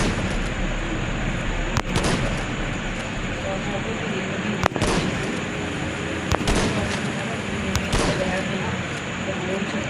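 A few sharp gunshots ring out while shooting zombies in the video game Deadly Nightmare, set against a constant noisy game background with someone talking over it.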